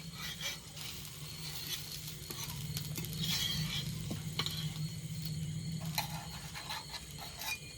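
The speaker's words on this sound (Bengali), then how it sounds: "পরোটাটা উল্টিয়ে নিয়েছি পরোটাটা আর এক পিঠ ভাজা হতে থাকবে" Steady sizzling and light crackling of a paratha frying in a hot pan, with occasional scraping and stirring sounds, close and continuous.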